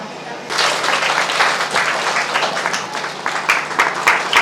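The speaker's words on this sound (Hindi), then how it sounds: "तालियों से स्वागत करेंगे" Audience applause welcoming a gift giver at a Good Friday gathering, a dense burst of many hands clapping that starts abruptly and holds steady, fairly close.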